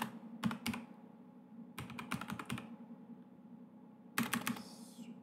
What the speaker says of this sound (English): Sorry, I can't really type and talk at the same time.